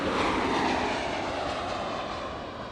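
Airliner departing at LAX, a broad, steady jet roar heard from a distance that slowly fades over a few seconds, with no talking.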